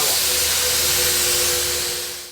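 A spray gun lays wet paint onto a dining table, giving a loud, steady, continuous hiss that holds for the whole stretch and tapers slightly at the end, with no talking.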